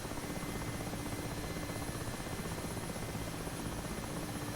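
A Mi-8 Hip helicopter hovers in the DCS World flight simulator with a dense, constant rotor and engine roar. The sound is steady and unbroken, with no voices.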